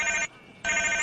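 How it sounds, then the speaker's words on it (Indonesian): An incoming call ringtone on a cell phone, a loud electronic ringing burst that cuts off for a brief pause and then resumes, heard alone. "Namun tiba-tiba terdengar bunyi ringtone telepon masuk."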